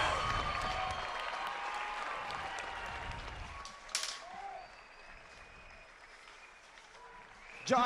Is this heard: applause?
yes